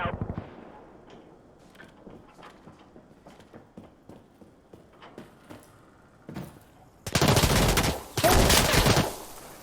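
Artillery barrage in the video game Insurgency Sandstorm: scattered distant thuds and crackles build to two loud, sustained roaring blasts of explosions near the end.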